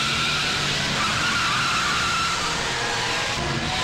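Car speeding and skidding during a police chase in a Hindi-dubbed South Indian action film, a loud continuous tire screech and engine roar that holds steady throughout.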